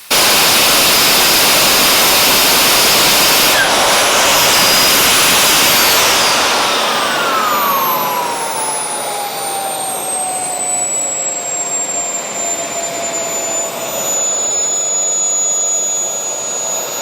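A Xicoy X240 micro jet turbine roars at full power with a loud, harsh whine, then spools down with a falling whistle that settles into a steadier, quieter idle hiss.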